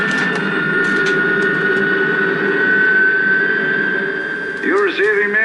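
A helicopter flies over the coastal village in the 1967–68 TV series The Prisoner, making a steady, loud engine drone with tonal whine. Radio-style voices are heard over it.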